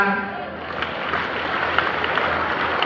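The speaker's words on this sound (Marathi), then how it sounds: "त्या पाण्यासाठी टाळ्या" Audience clapping at a science-outlook lecture at a school in Warananagar, a broad, steady wash of many hands filling the room for a few seconds without a clear break.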